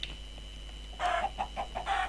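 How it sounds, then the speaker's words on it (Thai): Several chickens cluck in Minecraft, a burst of short, near clucks repeating in quick rhythm over a low background hum. "ไก่ไก่ไก่ ฆ่าไก่ก่อน"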